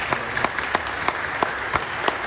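A church congregation applauds during a Saturday dawn prayer service, giving dense, steady clapping from a large crowd that fills the room, with rhythmic accents standing out and no clear speech.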